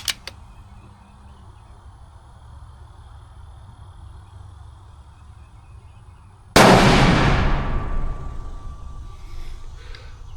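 A single loud rifle shot from a .300 Norma Magnum cracks suddenly after a stretch of quiet, then rolls out into a long, slowly fading echo across open ground.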